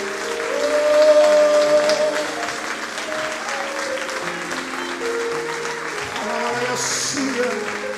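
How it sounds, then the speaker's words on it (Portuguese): Loud applause from a congregation during a church service, sustained throughout over sustained musical tones, with speech-like sound mixed in. "Você pode aplaudir o Senhor bem forte."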